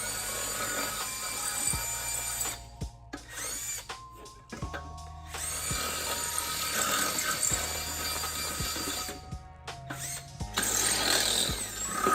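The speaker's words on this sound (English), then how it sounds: "Now I'm gonna try and drill these out best that I can." A power drill whines in repeated bursts drilling out exhaust bolts on an Acura RSX, stopping briefly and starting again, with its motor pitch shifting as it bites into metal.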